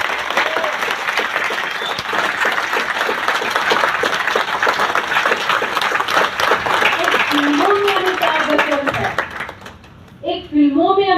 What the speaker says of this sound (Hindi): और मैं चाहती हूँ एक बारी हमारे आरसीएम के अमिताभ बच्चन के लिए जोरदार तालियां।